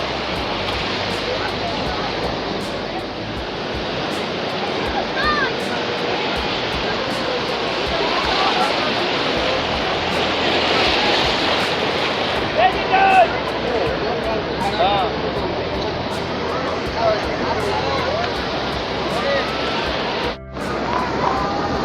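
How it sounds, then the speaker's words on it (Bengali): Sea waves wash continuously over boulders at Digha by the river mouth fish market, a steady broad roar of surf with scattered splashes, with a voice speaking over it now and then. "ওইখানে কিন্তু বোল্ডারগুলোর উপরে কিন্তু প্রায় পুরো জল উঠে যাচ্ছে"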